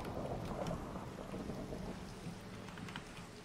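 Thunderstorm with heavy rain, a continuous faint wash of rainfall and distant rumbling with no talking.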